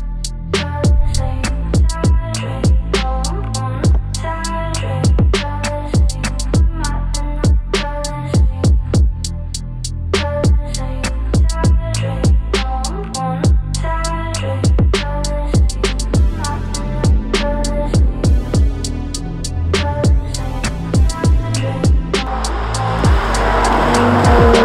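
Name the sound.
Aston Martin DB11 AMR driving on test drive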